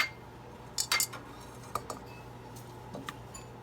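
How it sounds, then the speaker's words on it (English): Butter and brown sugar being mixed in a bowl, soft scattered clinks and scrapes of a utensil against the bowl, a few light taps spread over a quiet background. "Mix that in together with the brown sugar."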